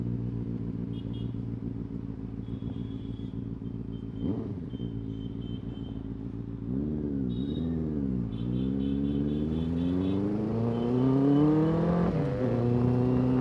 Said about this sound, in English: It's a very sweet sounding engine, revs up pretty fast.